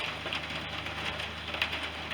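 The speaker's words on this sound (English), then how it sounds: "It's an old rainy day here" Steady rain falling outdoors on a wet day at a rural preserve, a soft continuous hiss and patter near a hearth, with no one speaking.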